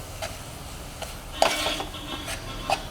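A spoon scraping and tapping against a pan while stirring jaggery and scraped coconut, with a few soft clinks and scrapes at irregular intervals over a low background hum.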